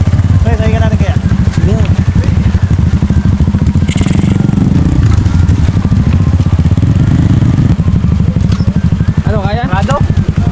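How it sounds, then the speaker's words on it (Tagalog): Motorcycles labor across a rocky, boulder-strewn river crossing, engines straining loudly and continuously while people talk nearby over the revving. "Hirap na hirap pa yung motor nila."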